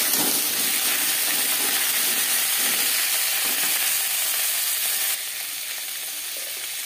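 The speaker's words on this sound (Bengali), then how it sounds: "পটল হালকা করে ভেজে নেব" Pointed gourd (potol) frying in a pan gives a steady, dense sizzle and hiss with faint stirring scrapes, holding throughout and easing slightly in level near the end, with no voices.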